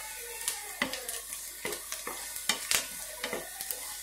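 Garlic frying in a pan for a spicy garlic chutney, with a soft sizzle punctuated by short, regular scrapes and clicks of stirring against the metal, close and fairly quiet.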